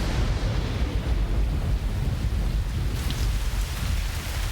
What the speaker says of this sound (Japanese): すっげえ雨、何も見えない。